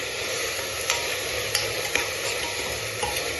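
A handful of green chillies sauté in hot oil in a pan for a beef curry, giving a steady close sizzle with a few soft stirring scrapes and clicks.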